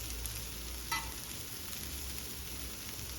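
Boiled, squeezed soya chunks fry in a pan, giving a steady, faint hiss with one brief scrape or clink near the start, heard alone.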